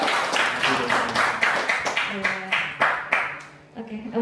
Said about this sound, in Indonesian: Boleh tepuk tangannya lagi